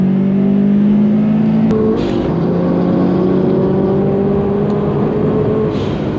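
A Subaru accelerating hard under power on a track, the engine pitch rising after a brief gear shift; loud and close throughout, with no voices.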